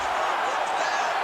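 A UFC arena crowd roars steadily, a dense wash of cheering with no breaks, and a voice may be faintly mixed in.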